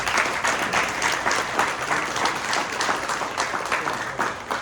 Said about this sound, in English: let's give a round of applause for the NYPD.